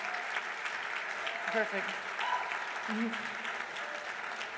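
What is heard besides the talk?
audience applause for former teammates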